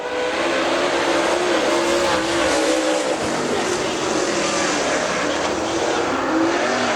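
Super late model race car lapping a dirt speedway at Dixie Speedway, a loud sustained engine roar with shifting pitch as it works around the track, heard alone without speech.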